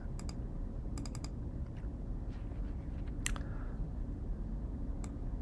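Typing on a computer keyboard: short bursts of light clicks and taps, some in quick runs and some single, fairly faint over a steady low background hum.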